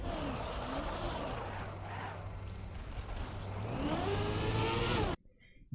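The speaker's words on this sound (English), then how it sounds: "So, I'm gonna put on the engine sound." Race car engine in Trackmania revving back up after a spin on an ice slide, a loud continuous drone with a rising pitch sweep toward the end, cutting off abruptly near the close.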